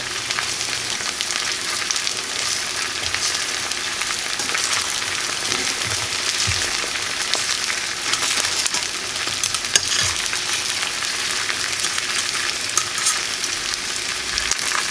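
Belgian endive fries in balsamic butter in a pan with a steady, dense sizzle and crackle that keeps going throughout at an even level with no voices.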